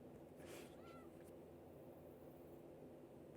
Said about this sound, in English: We got a cat in the trailer.